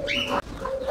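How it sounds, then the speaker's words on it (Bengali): Diamond dove chicks give soft, close cooing calls, two short breathy coos within a second, with no talk over them. "এই দেখেন বন্ধুরা, খুবই চমৎকার ডায়মন্ড ডবের বাচ্চা"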